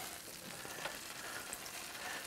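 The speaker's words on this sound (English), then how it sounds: "Still sizzling hot." Chicken roasted with a hair dryer, still sizzling after cooking: a faint, steady crackle and hiss of hot fat that continues evenly throughout, heard up close with no talk.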